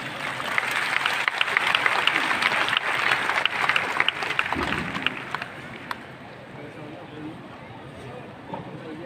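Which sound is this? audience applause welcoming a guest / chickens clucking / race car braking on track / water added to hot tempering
audience applause welcoming a guest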